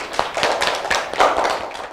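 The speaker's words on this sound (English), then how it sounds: "Give a good clap for everyone" Schoolchildren in a classroom clapping together for a brief moment, a quick burst of hand claps close by with faint voices mixed in.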